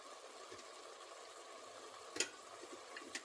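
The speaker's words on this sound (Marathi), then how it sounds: "हा असं फ्राय करून घ्यायचा आहे." Ground spices, turmeric, chili, coriander powder, fry in a pan with a faint, steady sizzle and a few light ticks and stirring clicks, quiet and close.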